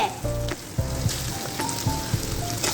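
Bay leaf and turmeric fry in hot oil with a loud, crackling sizzle and sputtering pops, along with a few clinks and scrapes of a utensil against the pot.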